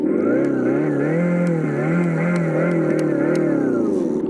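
A loud, steady simulated motorcycle engine rumble played at maximum volume through the speaker of a FREESKY Cheetah MT-380 dual-motor electric bike, with the revving pitch wavering up and down continuously throughout.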